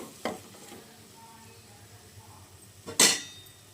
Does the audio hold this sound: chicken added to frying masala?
yes